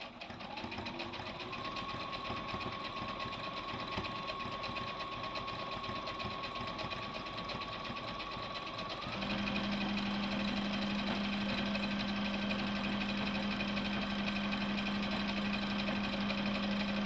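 A Brother combination sewing and embroidery machine stitches a back stitch, its steady motor whir holding an even rhythm before stepping up to a louder, higher-pitched steady run partway through, close and alone with no talking.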